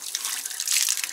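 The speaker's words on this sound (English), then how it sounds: "We turn our faucet on" Water runs steadily from an outdoor faucet into a hose filling an Airstream RV's freshwater tank, a continuous close hiss and splash with no talking.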